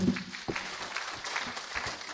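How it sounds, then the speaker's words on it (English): Audience applause at a product relaunch and stakeholders forum, a brief wash of clapping with a few sharper claps and murmurs mixed in, moderately loud in a hall. "Please, a round of applause for her,"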